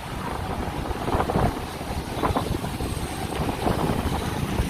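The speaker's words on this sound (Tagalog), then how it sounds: "Masarap pakinggan yung yung sounds ng hangin. Talagang may bagyo." Steady roar of strong storm wind buffeting the microphone, with gusts swelling and fading, mixed with broadband rushing noise and rain, no voices.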